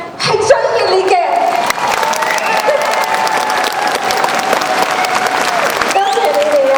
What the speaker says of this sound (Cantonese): 掌聲咧係最熱烈嘅